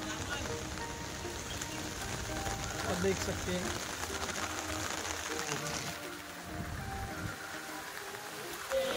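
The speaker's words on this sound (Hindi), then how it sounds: "अभी फुल बारिश चालू है यहाँ पे भी" Steady heavy rain hisses across the whole scene outside a church in Old Goa, with a person speaking briefly over the downpour.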